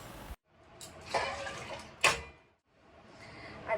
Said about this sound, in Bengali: বাটিটা ধুয়ে জলটাও দিয়ে দেবো